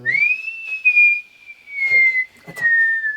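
A person whistles one long sustained note that rises at the start and slowly glides lower, close and clear, broken by a few brief rustles and clicks.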